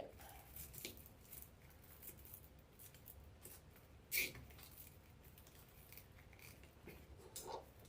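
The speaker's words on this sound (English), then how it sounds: "So now we're just gonna go around and cut all the zip tie tails off." Scissors snip zip tie tails on a wreath being built on a large board. One crisp, close cut stands out against a quiet room background.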